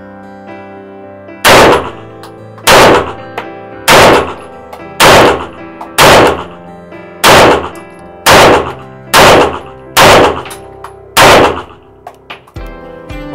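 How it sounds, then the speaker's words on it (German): A CZ P-09 pistol fires about ten sharp, loud shots at a shooting range in a fairly quick, even rhythm, each crack ringing briefly before the next. "ich will mal versuchen, so ein bisschen schneller zu schießen"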